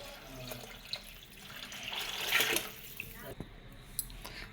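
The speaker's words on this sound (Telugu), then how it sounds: "5 గ్లాసుల వాటర్ పోస్తున్నాను." Water poured into a cooking pot to boil for semiya upma, a steady pouring splash that swells to its loudest midway, then tapers off with a few small clinks, heard up close.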